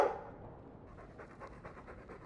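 A sentient dog in the video game Dragon Age II panting close by, a steady run of quick, rhythmic breathy huffs after a brief louder onset.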